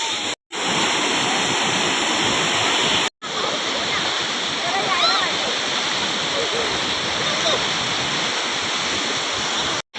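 Water rushing over a village dam spillway in the Konkan countryside, a loud, steady, close roar of churning water that continues with brief cuts, with faint voices mixed in.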